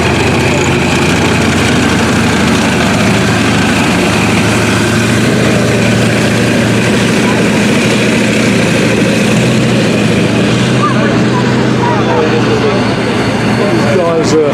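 American Grant tank engine idling at a military show in Market Harborough, England, a loud continuous heavy low rumble with irregular exhaust popping, steady throughout, while someone talks over it.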